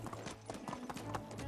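Horse hooves in the Medieval Dynasty video game clip-clop in a brisk, steady rhythm at close range, with a loud even gait throughout the short stretch.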